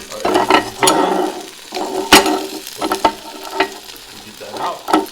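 Sausages sizzle and spit on a Ninja Foodi Grill, with sharp crackling pops and the scrape of a utensil turning them, close and loud.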